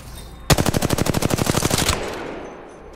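Automatic weapon fire in the shooter game Apex Legends: a rapid burst of about fifteen evenly spaced loud shots lasting roughly a second and a half, followed by a fading echo.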